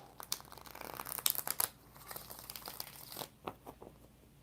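Tarot cards are shuffled by hand in a quiet room, giving a run of soft crinkly riffles and papery slaps that come in bursts, closer and sharper toward the end.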